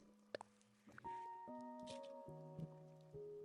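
Light rain falls in the Animal Crossing: New Horizons video game, soft patter under scattered game chimes, tones and interface sounds, fairly quiet throughout.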